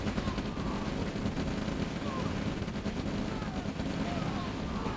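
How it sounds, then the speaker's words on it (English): Infantry gunfire in the Red Alert strategy game OpenRA, a dense and continuous rattle of shots that stays loud and even for the whole stretch. "those tanks are soaking up all the fire from the infantry"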